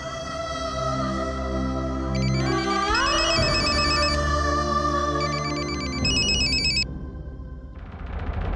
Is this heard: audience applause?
no